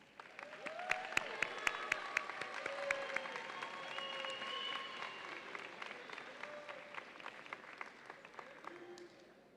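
An audience at a university commencement ceremony breaks into sustained applause, dense and even, with sharp individual claps popping out near the start and thinning slightly toward the end, no speech over it.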